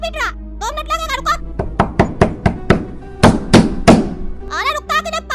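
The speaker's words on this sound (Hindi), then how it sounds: "पीटता जा रहा दरवाजा" A train door is pounded again and again in a quick run of heavy, close knocks. An excited voice talks over the start and finish of the banging.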